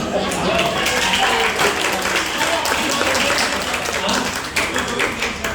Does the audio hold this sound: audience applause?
yes